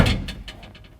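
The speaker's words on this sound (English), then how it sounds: "Let's go ahead and shut that." A Ford Fusion door is shut once with a loud, close thud at the start, then a few faint, fading rattles and clicks follow.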